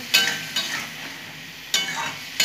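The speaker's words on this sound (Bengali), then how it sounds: "এটা নিয়েও আমি ভালো করে নাড়াচাড়া করে নেব" Peas and spices frying in a pan with a steady sizzle, broken by a few scraping stirs of a spoon against the pan, close and alone.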